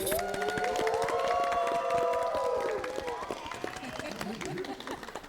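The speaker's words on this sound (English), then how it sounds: "So I want to give a big round of applause for her once again" A studio audience on a dating show cheers and whoops loudly for the host, with scattered claps under the shouting, the cheering fading after about three seconds into lighter crowd noise.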